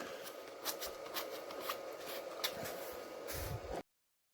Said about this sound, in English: I always like to scuff it a bit.